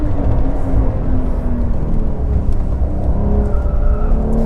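A 2023 Porsche 911 Carrera T's base engine roars loudly and steadily as it accelerates, its pitch climbing through gear changes, close and dominant throughout.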